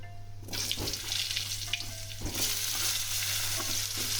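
Thinly sliced potatoes drop into hot tempered oil and sizzle loudly at once, a steady close frying hiss with scattered stirring clicks and no talk.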